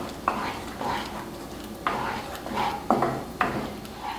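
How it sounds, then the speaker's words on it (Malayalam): A spoon stirs soy sauce and green chilli sauce in a hot pan, with several sharp scraping knocks against the metal over a steady sizzle, close up and with no talk. "ഇത് നന്നായിട്ട് നമുക്ക് ഇളക്കി കൊടുക്കാം"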